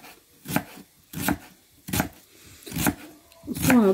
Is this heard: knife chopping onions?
yes